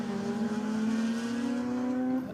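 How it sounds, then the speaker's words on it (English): A little Mazda R100 race car with a rotary engine accelerates down a drag strip, a steady rising buzzy engine note held loud and close throughout, with no talk over it. "R100's got that rotary sound."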